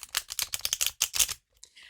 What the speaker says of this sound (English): I'm going to shuffle it face up once and see how that goes.